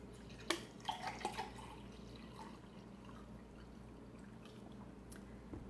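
Liquid is poured into water to turn it into juice. A few close drips and splashes come first, then a quieter, steady trickle continues with no talking.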